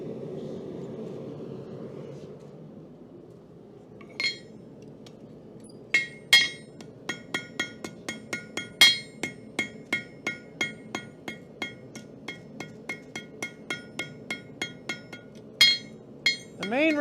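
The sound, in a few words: blacksmith hammering hot steel while forging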